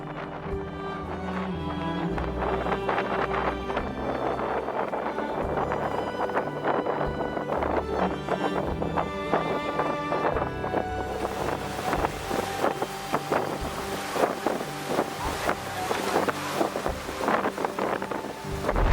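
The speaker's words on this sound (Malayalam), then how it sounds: "നല്ല കാറ്റും മഴയാണ് കേട്ടോ" Strong wind and rain buffet the microphone over a steady engine drone while a boat moves through rough water at Periyar Tiger Reserve, a continuous noisy roar throughout.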